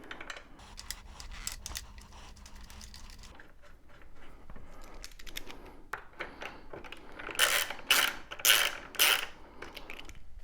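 A socket ratchet clicks as a seat bolt is snugged on an Indian Scout Bobber motorcycle, quiet metallic handling giving way to louder bursts of rapid ratcheting near the end, close and without talk.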